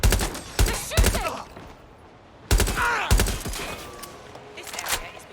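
Repeated volleys of close, loud gunfire from a Watch Dogs: Legion firefight crack out in clustered bursts with brief lulls between them, with a faint voice and a sliding tone in the background.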